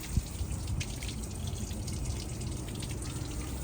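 Water flushes steadily through the engine cooling system of a Ford Transit 1.8 TDCi van, a continuous hissing gush heard close and alone.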